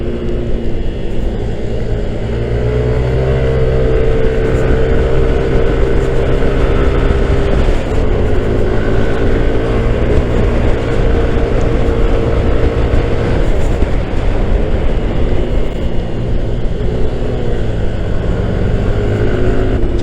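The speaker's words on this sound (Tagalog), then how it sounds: "Sana naririnig niyo yung engine brake." A Yamaha NMAX scooter's engine drones loud and steady while engine braking during downshifts, with continuous wind rush and road noise and a slight shift in pitch partway through.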